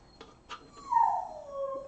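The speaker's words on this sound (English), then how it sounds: "Now we're gonna get the sad howls" A dog lets out a couple of short whimpers, then a long, drawn-out mournful howl that slowly falls in pitch and tails off, heard close and fairly quiet indoors with no one talking.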